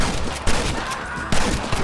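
Cover fire in a Red Dead Redemption gate assault: rapid, overlapping gunshots crack close and loud throughout, with sharper bursts standing out at regular moments amid a steady din of shooting.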